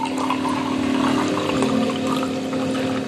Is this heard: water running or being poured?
yes